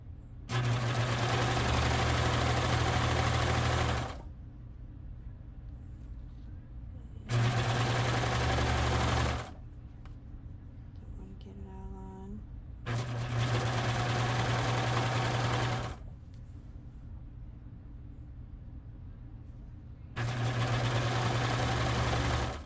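A serger sewing machine stitching fabric runs in four steady, loud bursts of a few seconds each, a dense mechanical whir with brief quiet pauses between them and no talking.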